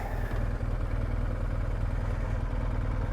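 A parked motorcycle idling beside a Porsche 911 outdoors, its engine putting out a steady, even low rumble with a fast pulsing beat, close up and continuous throughout.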